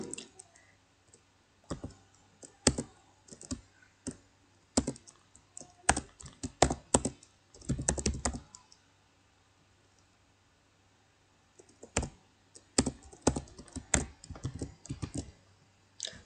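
Bursts of rapid keystrokes on a computer keyboard, typed in clusters with a long pause in the middle; close, crisp clicking with no voices.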